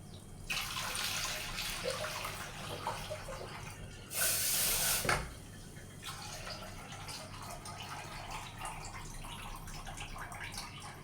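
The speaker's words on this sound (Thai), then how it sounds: "มากดเอาน้ำในนี้หุงข้าวจักหน่อยนะคะ" Water dispensed from a pressed tap into a rice pot for cooking, a steady close hiss of running water through most of the stretch with a brief louder burst midway, and no talking.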